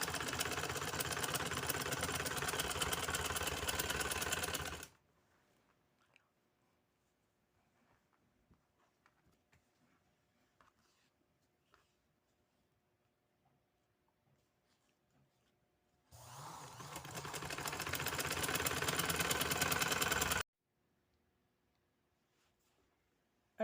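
A sewing machine stitching a shirt hem runs in two bursts of rapid, steady mechanical whirring, about five seconds and then four seconds long, separated by near silence with faint handling noises.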